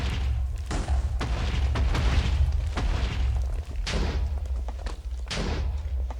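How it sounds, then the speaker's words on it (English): Bed exploding in the Minecraft Nether while blasting along a tunnel: a run of loud, booming game explosions, one after another across the stretch, with deep rumbling thuds and no talking. "just keep exploding that tunnel."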